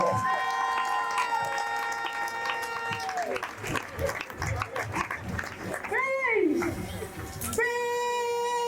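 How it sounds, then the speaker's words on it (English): Crowd applause and cheering for a girls' school cadet display at a speech day, distant clapping mixed with band music and a voice over a loudspeaker. "let's give them another round of applause"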